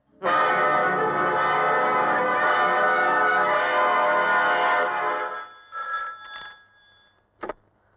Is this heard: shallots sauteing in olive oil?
no